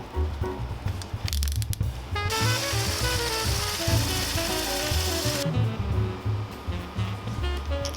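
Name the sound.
brass instrument resonators sanded to final diameter on mandrels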